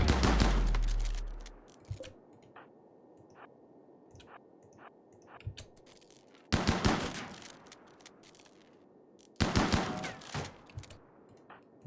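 Colonists firing guns in RimWorld: a loud opening blast, then two dense bursts of rapid automatic gunfire around the middle and the end, with scattered single shots and clicks between them and no speech.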